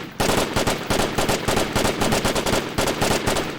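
Sustained rapid automatic fire from a Marsoc support machine gun in a video game, loud and close, with dense bursts rattling continuously and only brief gaps between strings of shots.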